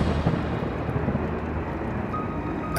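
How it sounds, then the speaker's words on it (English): Heavy rain pours steadily at Lakehurst airfield, a dense, continuous roar with a deep low rumble underneath, like distant thunder blending into the downpour. "A heavy rain falls at Lakehurst, soaking the ground crew."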